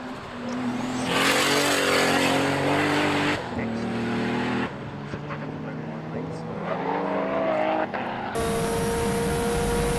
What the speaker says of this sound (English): We're on board with Brad Jessom now, to see how the Evo goes on slick tyres